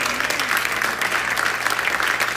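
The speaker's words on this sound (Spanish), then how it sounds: "Aplauda con gozo." A church congregation at a Sunday service claps joyfully, producing a dense, continuous burst of applause that sounds full and fairly loud throughout.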